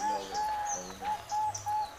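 Zebra dove (perkutut) cooing in clear repeated phrases, a rhythmic run of soft, hollow notes with brief pauses between, close and distinct with no talk over it.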